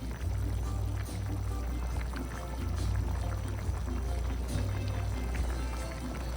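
Water drains from two cans of beans into a sink, a steady splashing trickle with continuous watery running and small gurgles throughout, close by with no talking.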